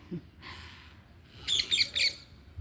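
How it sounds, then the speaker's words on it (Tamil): Several sharp, harsh bird calls, a brief screech followed by a rapid cluster of loud squawks, like a parrot calling nearby. "கோவமாக கத்துற மாதிரி ஒரு சவுண்டு கேட்கும் கிளி கீழே வரைக்கும் கேட்கும்"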